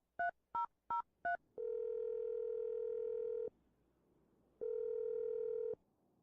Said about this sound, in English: let's dial the phone number.